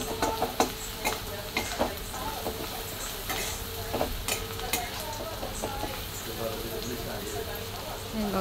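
Poha being stirred and mixed with chopped coriander in a hot pan, soft scraping and a light sizzle that keep on steadily with scattered sharper clicks of the spatula against the metal.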